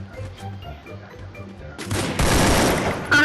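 Gunfire in the mobile shooter Garena Free Fire arrives after a quiet stretch as a loud, dense burst of rapid shots, swelling again at the very end.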